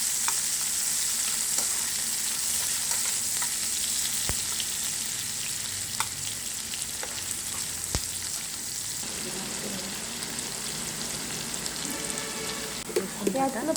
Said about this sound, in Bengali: পেঁয়াজটাকে আমি একটু লালচে ব্রাউন করে ভেজে নেব।